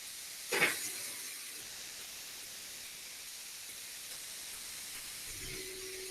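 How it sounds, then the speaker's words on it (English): Pork chops searing in a hot pan give a steady, faint hiss throughout, with one brief louder burst of sizzle near the start. "Second side's searing a little better, I think."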